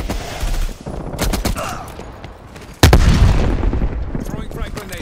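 Explosive gunfire bursts from the War Machine grenade launcher in the game Call of Duty: Cold War, with a heavy booming impact midway and rumbling battle noise before and after.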